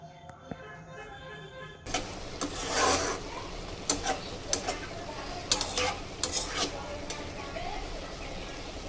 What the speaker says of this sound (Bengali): তো একটু হালকা নেড়ে দেব।